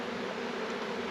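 Honey bees buzz steadily around hive frames lifted from a colony during a split, a dense, continuous drone close by with no voices.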